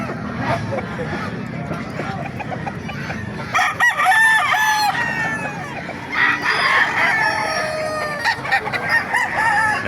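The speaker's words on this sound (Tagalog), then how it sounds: "Napakagandang heni nakita natin dito sa Baliwag" A hen at an outdoor pet market in Baliwag clucks and squawks in bursts, with a rooster crowing nearby amid market chatter and people talking over the birds.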